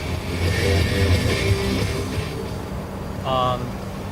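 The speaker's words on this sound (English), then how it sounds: "The ventilation system is louder than anything else. Road noise isn't too bad." A 2006 R Vision Trail Lite 252 B+ RV cruises along the road, its low engine rumble and road noise steady beneath a ventilation whoosh while someone talks over it.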